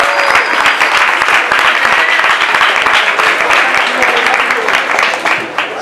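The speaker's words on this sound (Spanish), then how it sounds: "Un aplauso para Sumersaurio." An audience breaks into loud, dense applause during a talk on genetically modified foods, a continuous close burst of clapping that holds steady before easing slightly at the end.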